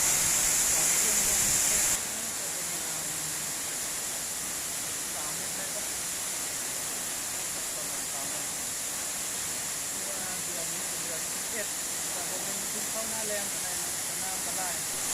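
Waterfall at Tad Yod Xuang near Vientiane roars as a steady, loud broadband rush of falling water, continuous throughout with a brief louder burst at the start.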